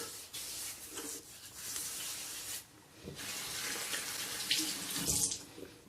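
A tap runs into a sink while shaving lather is prepared for a head shave, a steady hiss of flowing water with brief rubbing and splashing changes, quiet and close, without talk.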